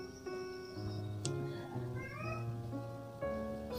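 A cat meows a few times in short, drawn-out cries, fairly quiet, mixed with other tonal background sound.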